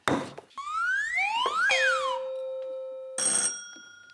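A string of electronic quiz buzzer effects on the TV quiz Have I Got News For You: rising whistling tones, a springy boing, a long steady beep, then a short bright ringing burst. No talking.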